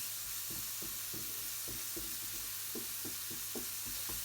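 Soft onions sizzle gently in a frying pan, with a quiet continuous fry broken by faint, regular stirring scrapes and no voices.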